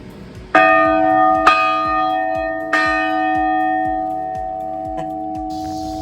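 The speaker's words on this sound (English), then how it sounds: "There's this big bell. This is the Richland bell." A church bell cast in 1909 for the Evangelical United Brethren Church of Richland is struck three times, each loud clang ringing out and decaying slowly into a long, sustained hum.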